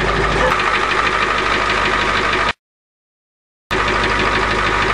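A truck engine that has lost its starter motor keeps running with a rough, knocking idle, loud and close, cut by a short stretch of total silence midway.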